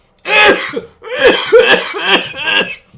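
A person coughs in rough, throaty bursts, several in a row with a short pause between, loud and close.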